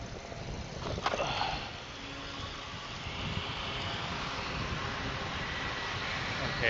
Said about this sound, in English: Now I'm gonna throttle.